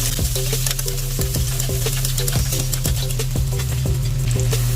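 Carrots and potato pieces fry in hot oil in a pan for a Filipino chicken casserole. A steady sizzle runs under repeated clinks and scrapes of a utensil stirring at a regular pace.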